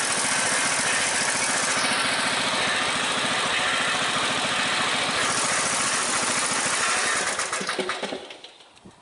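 Briggs & Stratton small engine idling steadily with a metallic rattle from a baffle broken loose inside the muffler, loud and close, running continuously before dying away at the end.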